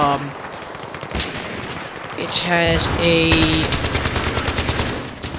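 Battlefield 3 SCAR-H battle rifle firing in sustained automatic bursts, loud and close, with a rapid rhythmic crackle running through most of the span.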